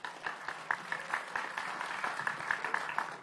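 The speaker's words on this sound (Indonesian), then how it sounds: "Boleh tepuk tangannya?" Faint applause from the audience at a municipal election candidates' debate, a soft patter of scattered claps that continues steadily for a few seconds, heard at a distance.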